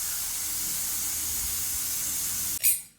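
A pressure cooker vents steam while chicken curry cooks inside, giving a steady, loud hiss that runs unbroken and then changes abruptly into a short, sharp burst near the end.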